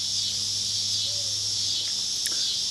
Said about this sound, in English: the yearly cicadas